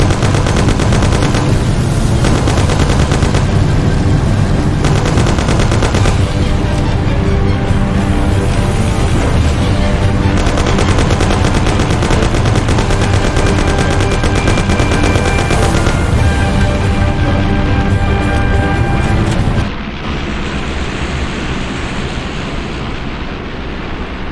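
Sustained gunfire from a shootout in the video game Mafia, loud and dense bursts over a driving soundtrack for about twenty seconds, then dropping to a quieter roar of engine and music near the end.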